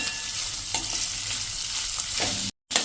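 Potatoes and carrots fry in a pan for a pearl millet khichdi and are stirred, making a continuous close sizzle with soft scraping strokes before a brief dropout.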